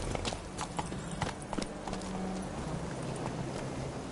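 Hooves of Roach, the horse in The Witcher 3: Wild Hunt, clip-clop at a walking pace: a steady run of crisp, close hoof strikes, moderately loud, with no voices.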